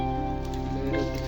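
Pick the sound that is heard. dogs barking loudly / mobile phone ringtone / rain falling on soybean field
rain falling on soybean field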